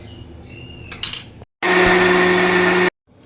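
Electric mixer grinder whirring loudly as it blends chana dal with salt and turmeric, running in one steady burst of a little over a second after a brief clatter, then stopping abruptly.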